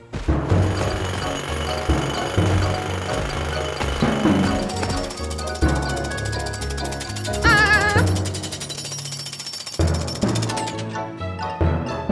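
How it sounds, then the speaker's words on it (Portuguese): A loud cartoon drill rattles and pounds continuously, harsh and mechanical, with shifting clanks and a high whine partway through. "Precisamos parar aquela furadeira, Morphon, agora!"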